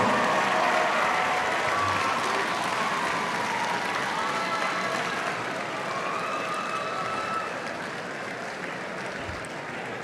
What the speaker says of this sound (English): as they return to their seats, give them a round of applause